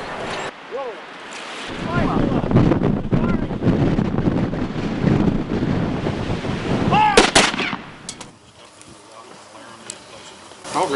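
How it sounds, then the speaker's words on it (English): Strong wind gusting outdoors in open Wyoming country, a steady rushing roar buffeting the microphone for most of the clip, with people talking over it and a brief lull near the end. "You can tell it's a little windy out here."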